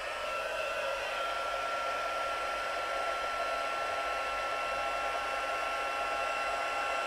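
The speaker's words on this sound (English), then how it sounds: "let's get the heat gun on this one." A heat gun blows steadily while heating embossing powder on a birthday card, a continuous close, even whooshing roar like a hair dryer that holds at one level throughout with no talk.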